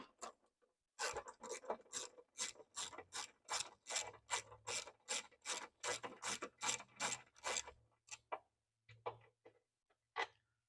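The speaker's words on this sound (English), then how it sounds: "Little 1/4-inch ratchet does the job no problem." A small 1/4-inch ratchet loosens a 10 millimeter bolt on the air box of an Infiniti G35, giving a quick run of sharp, close clicks in even strokes that then taper into a few scattered ticks.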